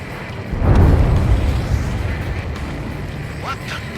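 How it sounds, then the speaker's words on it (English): Huge underwater explosion in the Ace Combat 7 video game, heard as a deep low rumbling boom that swells near the start and slowly fades under game sounds, with a brief rising tone near the end. "A huge explosion just went off underwater."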